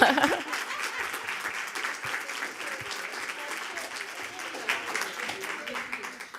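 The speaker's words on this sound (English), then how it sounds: "Can we give another round of applause to all of the amazing panelists?" A conference audience applauds steadily, a dense wash of clapping that holds at an even level from start to finish.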